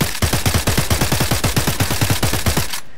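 An AK rifle fires full-auto in the VR game Blade and Sorcery: a rapid, evenly spaced burst of about twenty sharp shots, loud and close, ending abruptly with no talking.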